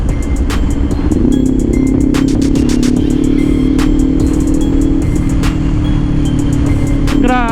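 A Kawasaki Ninja 500 SE motorcycle cruises on an expressway, its engine holding a steady droning tone beneath heavy wind rush, with brief clicks and buffeting throughout.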